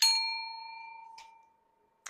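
A small metal bell rings once with a clear sustained ding that slowly fades, followed by a second brief tap near the end; close and alone with no talk.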